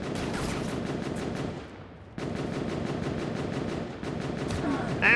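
Sustained gunfire in the video game Escape From Pertam, rapid loud bursts of shots aimed at a truck, continuing almost without pause apart from a brief lull midway.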